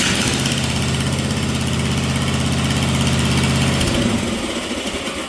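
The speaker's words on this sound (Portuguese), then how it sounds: "E aqui eu mato o motor." Small petrol engine on a robot build, running with a steady loud chugging idle, then cut off near the four-second mark, leaving a fading rattle and quieter background.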